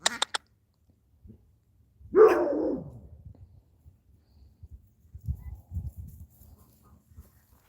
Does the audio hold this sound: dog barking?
yes